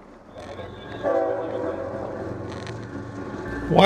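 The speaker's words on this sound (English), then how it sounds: "While we're waiting for this train" A train passes near the New River in downtown Fort Lauderdale, its horn sounding in long held blasts over a low rolling rumble that grows louder toward the end.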